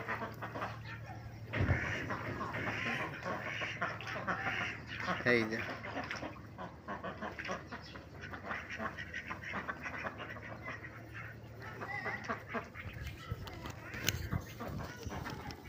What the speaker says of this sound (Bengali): ওই যে আমাদের ছোট্ট খামারের হাঁস।